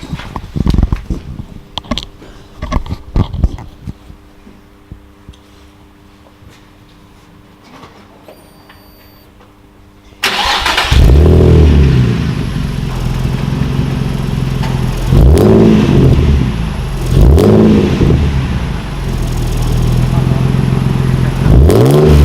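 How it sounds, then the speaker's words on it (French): A Nissan 350Z engine fires up midway after quiet talk and handling noises, then idles loudly with several sharp exhaust revs rising and falling, close by. "Qu'on entende un peu le bruit du moteur et de l'échappement."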